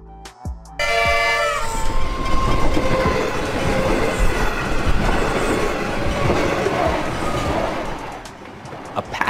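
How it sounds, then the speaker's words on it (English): A train roars by close and loud, wheels clacking rhythmically over the rails after a brief quiet start, sustained noise until the end. "Passenger train is a railway vehicle designed to transport passengers."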